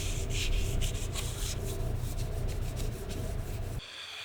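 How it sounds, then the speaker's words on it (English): A sanding block rubs steadily over epoxied wooden miter joints, giving a continuous close scratchy friction in repeated strokes for about four seconds before it abruptly drops away. "For now, I'm going to smooth these miters over with a sanding block"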